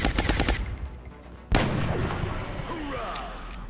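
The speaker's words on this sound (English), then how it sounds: "we're going to start dropping bombs down range" Heavy bombardment in the XCOM: Long War video game, with a rapid burst of repeated blasts followed by a loud, sharp detonation and a long rumbling tail.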